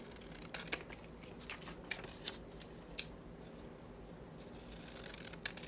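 Scissors snip through paper while trimming pages for small handmade notebooks, a series of crisp close cuts at an uneven pace with rustling paper between them.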